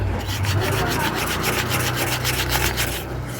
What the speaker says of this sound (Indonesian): Coba ini kita amplas sobat depannya